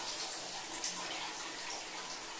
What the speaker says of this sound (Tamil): இப்போ வந்து தேவையான அளவு தண்ணி சேர்த்துக்கணும்.